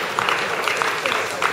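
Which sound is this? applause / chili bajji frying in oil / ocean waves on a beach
applause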